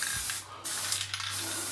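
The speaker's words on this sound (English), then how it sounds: "I'll spray from side to side" Tough as Tile spray-on refinishing coating hisses steadily from an aerosol can in close, continuous bursts with a short pause midway, sprayed side to side across a surface.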